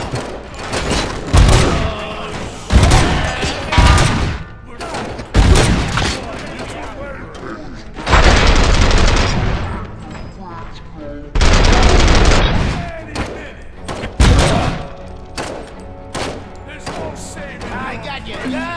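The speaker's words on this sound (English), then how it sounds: "Am I hearing gunshots?" Bursts of rapid gunfire and heavy booms from the video game Robocop: Rogue City come in loud volleys separated by short pauses, with voices talking in between.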